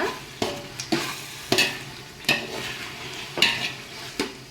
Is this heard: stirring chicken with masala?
yes